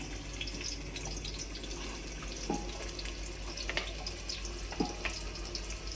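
Chopped onion frying in hot oil for a village-style chicken dish, a continuous wet sizzle and crackle, close and moderate, with a few light clicks and taps of a utensil scattered throughout.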